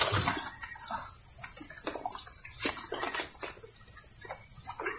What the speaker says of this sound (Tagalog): Eh, lagyan ko ng tubig.